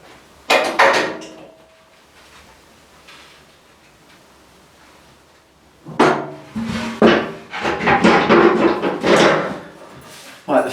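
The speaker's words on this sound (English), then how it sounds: "I'm going to drop this back down on the ground, put the ramp on and pull the bike up on it" A motorcycle lift in a garage is lowered, a ramp fitted and a bike pulled onto it, producing a burst of close metallic clanks early on, a quiet gap, then a longer run of knocks, thuds and scraping handling noises.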